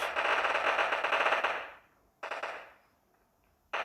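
Bursts of rapid automatic gunfire in the video game PUBG Mobile, loud and close, come in three sharp volleys separated by short pauses, with decaying echoes after each.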